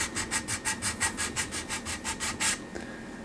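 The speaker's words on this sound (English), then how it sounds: "What we can do is just take a thicker grade of sand stick" A sanding stick rubs back and forth across the broken edge of a plastic model car chassis part, about a dozen quick even scratchy strokes close up, then stopping abruptly.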